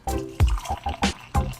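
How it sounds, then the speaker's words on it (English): A cup of starchy water from cooked pasta is scooped and poured, splashing and dripping in several short, close, fairly loud bursts with no talking. "Let's reserve a cup of that pasta water"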